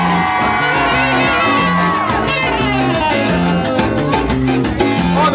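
A live crowd cheers, whoops and shouts through a band's steady, loud groove at a concert, the voices blending with the music for the whole stretch.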